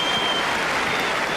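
A large tennis crowd at Wimbledon, at a 2003 match, keeps up loud, dense applause throughout. The clapping is steady and sustained, with no pauses.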